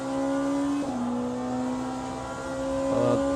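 A Porsche race car engine in a racing video game revs loudly and steadily, its pitch dipping and rising with quick gear shifts, a continuous close mechanical drone with no talk.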